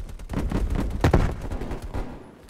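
Dense, continuous gunfire from a shooter video game, bursts and single shots packed close together at steady loudness, with a sharper louder volley near the middle before it tapers off.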